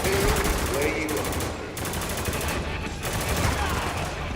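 Grenade launcher fire in a first-person video game: dense, loud bursts of rapid gunfire-like blasts with booming impacts that run almost continuously, with brief dips between volleys.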